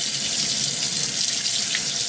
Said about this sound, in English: So let's rinse that off and see how it's looking here.